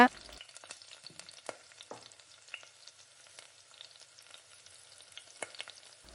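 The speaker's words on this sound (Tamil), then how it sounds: "அந்த ஸ்லைஸாக கட் பண்ணியிருக்க வெங்காயத்தையும் நல்லா எண்ணெயிலே வதக்கி விடுங்க" Sliced and chopped onions sauté in oil for chilli chicken, a quiet crackling sizzle with scattered spatula scrapes and clicks against the pan, close but soft, no speech.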